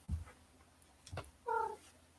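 A cat gives one short, clear meow near the end, after a couple of soft thumps, quiet and close in an otherwise still room.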